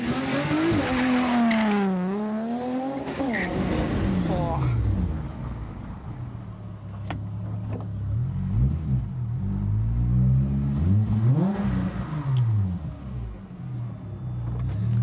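A car fitted with a new tuned exhaust revs and accelerates with a deep, throaty exhaust note, rising and falling in pitch through several gear pulls, loud and close.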